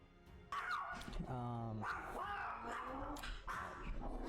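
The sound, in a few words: dogs barking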